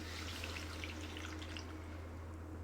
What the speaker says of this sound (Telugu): నేను ఈ నీళ్లు యాడ్ చేసుకుంటున్నాను ఇప్పుడు